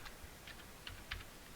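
Computer keyboard typing in short, quiet bursts of a few keystrokes, spaced irregularly against a soft steady background hiss.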